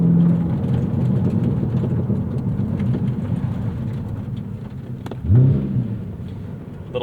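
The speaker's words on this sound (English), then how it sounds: "Little double clutch there in a second, very natural throttle response" Cadillac CT5-V Blackwing engine droning steadily at low revs, then a quick throttle blip of a double-clutch downshift flares briefly before settling back to a low rumble.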